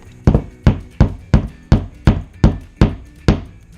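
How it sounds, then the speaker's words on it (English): Eight sharp hammer whacks in the video game Terrible Handyman, evenly spaced roughly every half second, each a loud, close thwack with a quick decay and no talk over them. "Pretty good to have a hammer."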